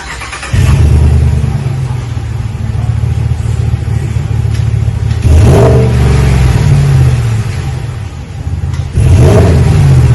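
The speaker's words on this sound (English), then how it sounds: "installed the Flowmaster Super 44. Left it all stock up front, like I said earlier. Give it some rumble." A 2020 Dodge Ram with a Flowmaster Super 44 muffler starts and idles with a deep, loud exhaust rumble, then revs sharply twice, the engine climbing and falling back to a throaty idle each time, close by with no talk.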